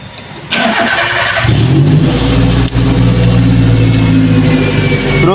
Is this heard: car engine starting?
yes